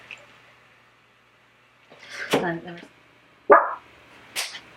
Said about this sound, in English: My little dog is being bad.